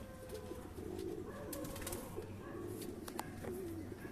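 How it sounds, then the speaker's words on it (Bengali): A breeding pair of pigeons, sitting on a freshly laid egg in a high-flying pigeon loft, coo in steady low murmurs close by, with little or no talking. "পায়রা দুটোকে একটু দেখানোর চেষ্টা করি"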